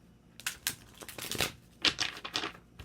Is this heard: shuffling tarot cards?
yes